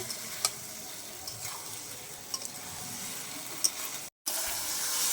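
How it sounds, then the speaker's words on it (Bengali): A spiced young-jackfruit mixture is stir-fried in a pan, with a low, steady sizzle and a few sharp utensil clicks. A short silent gap falls near the end. "সব একসাথে ভালো করে আরেকটু কষে নেব"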